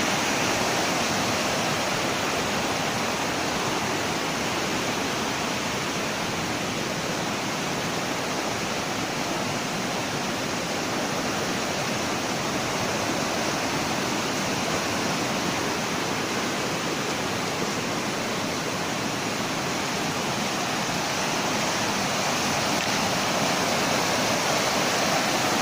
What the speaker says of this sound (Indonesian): Sepanjang sungai ini airnya sangat jernih dan sejuk untuk kita